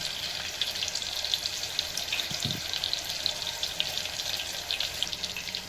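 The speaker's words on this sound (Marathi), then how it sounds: "तेल गरम झालं की ह्याच्यामध्ये कांदा टाकायचा आणि जेवढे गरम मसाले आहेत ते सगळे गरम मसाले ह्याच्यामध्ये" Onion and whole garam masala spices frying in hot oil for masoor rice, heard as a soft, even crackling hiss with faint popping throughout, fairly quiet and uninterrupted.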